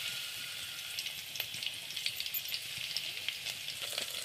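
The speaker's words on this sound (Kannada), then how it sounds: "ಎಣ್ಣೆ ಚೆಂದಾಗಿ ಇದಕ್ಕೆ ಒಂದು ಸ್ವಲ್ಪ ಫ್ರೈ ಮಾಡ್ಕೊತೀನಿ ರೀ. ಬೆಳ್ಳುಳ್ಳಿ ಕೆಂಪಗಾಗತ್ತನ" Crushed garlic fries in hot oil in a home kitchen, giving a steady close sizzle with crisp crackling pops throughout and no talking.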